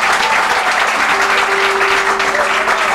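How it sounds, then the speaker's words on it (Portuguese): Loud, dense applause from a church congregation clapping for Jesus during worship fills the space continuously, with a faint sustained tone running beneath part of it. "E as palmas para Jesus"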